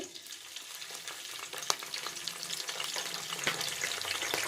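Curry leaves fry in hot oil while tempering for mango rice, making a steady, close crackling sizzle with a few sharper pops.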